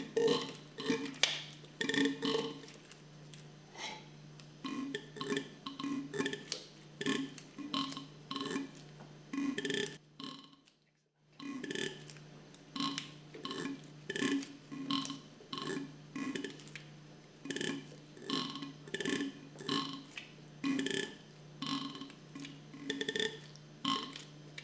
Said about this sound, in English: That sound is the valves working.